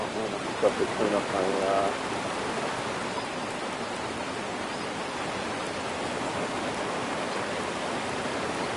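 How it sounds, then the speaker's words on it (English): A loud waterfall in the fishing video game Fishing Planet pours as a steady, broad roar of water, with a few brief thumps and chirps early on over the continuous rush. "this waterfall is so loud, I turned my sound down"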